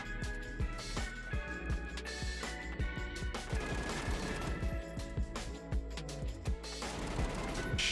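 Gunfire from PUBG after update 31.1, with a muzzle brake on the weapon: a dense, sustained stream of rapid shots and sharp cracks, loud and continuous throughout with no pauses or talk.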